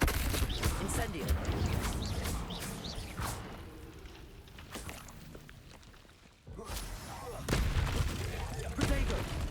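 Fire spell effects from the Hogwarts Legacy video game burst in repeated whooshing, crackling blasts over several seconds, with a brief dip into near-silence before the bursts resume loudly.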